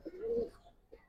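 A silver pigeon gives one short, soft coo, faint and close, with a brief quieter note just after.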